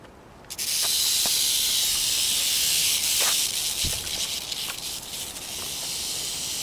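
A snake slithering quickly through grass outdoors, giving a loud, steady broadband hiss-like rustle that starts abruptly and continues throughout, with a few faint clicks over it.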